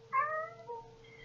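A domestic cat gives a single clear meow, drawn out and slightly falling in pitch, close and fairly loud over quiet room hum, with no speech.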